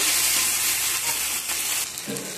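Tomato and ginger paste sizzling in a hot pan as they are stirred together for a vegetable curry, a steady bright hiss with soft stirring scrapes, close and continuous without talk.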